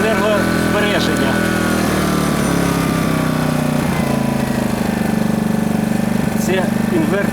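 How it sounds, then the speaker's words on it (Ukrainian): A GENERGY IBIZA 1.0 kW inverter generator runs with a steady, close, buzzing small-engine drone and slight pitch shifts as its speed adjusts, with a person talking over it. "Це інверторний генератор, тому частота обертів він сам підлаштовує на нормальну напругу."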